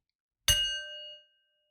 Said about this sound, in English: Let's begin with the bell.